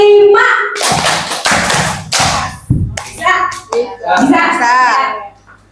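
Rhythmic hand claps and thuddy slaps in a group clapping game, alternating with children's chanting voices, close and moderately loud.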